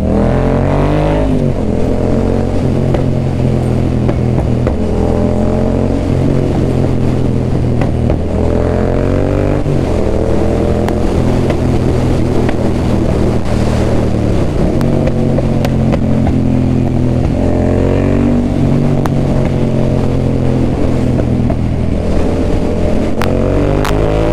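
A motorcycle fitted with an aftermarket Akrapovic carbon exhaust rumbles loudly and steadily up close, its deep exhaust note rising and falling through several throttle blips and revs.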